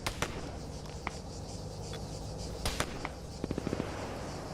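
Scattered gunshots in Arma 3, sharp single cracks spread across the scene, then a short rapid burst of several shots near the end, heard over a steady background hum.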